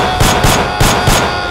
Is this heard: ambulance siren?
no